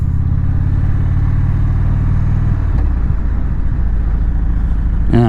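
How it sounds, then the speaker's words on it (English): Stock exhaust of an Indian motorcycle while riding, a steady low engine drone that stays even and muted throughout, with a brief rise near the end. "It's hard for me to hear this exhaust because to me the stock exhaust on the Indian"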